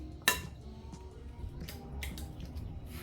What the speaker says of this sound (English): to that I'm going to add my eggs